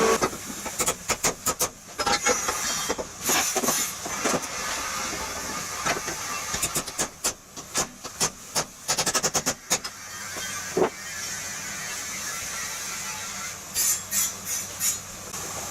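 MIG welding on a car suspension lower control arm being extended, a steady crackling, hissing buzz broken into short bursts and pauses, close and moderately loud, with no talking.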